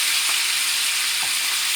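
Shrimp and noodles fry in a pan with wine and soy sauce, giving a steady, dense sizzle with a couple of faint stirring scrapes, close and uninterrupted.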